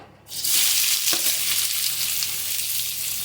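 Onion dropped into hot oil bursts into a loud, steady hiss of frying that stays close and continuous after the first splash.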